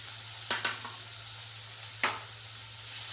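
Soybean chunks frying in a spiced masala in a pan, giving a steady sizzle with a few soft stirring scrapes near the start and one more about two seconds in.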